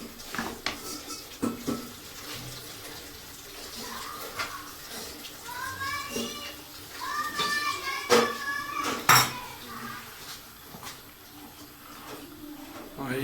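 Oil and masala frying and being stirred over high heat in a pot for pakora salan, with metal utensil scrapes and clinks against the pot throughout and a voice speaking at moments.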